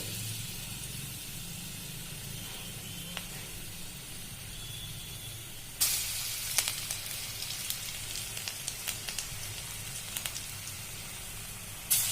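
Quiet hiss of fritters frying in oil, with sharper crackles and spits breaking in around the middle and near the end.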